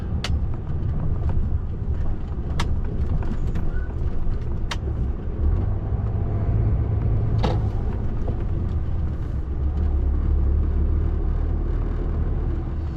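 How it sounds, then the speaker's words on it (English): A heavy delivery truck turns and reverses into a yard in Rochdale, its diesel engine a steady low rumble throughout, with a few faint clicks and a brief hiss over the drone. "spin it round, and then a nice little reverse into the yard"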